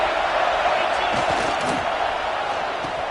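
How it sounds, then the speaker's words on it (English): Football stadium crowd roaring in a steady, loud wash of cheering as fans rise to back their defense, with a broadcast commentator talking over it. "This crowd rising up, sensing that its defense needs some help."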